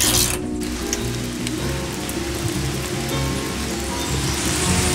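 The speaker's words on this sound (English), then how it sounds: "The rain just won't let up today" Rain falls steadily in a constant hiss, with faint mechanical clicking and low rumble running beneath it.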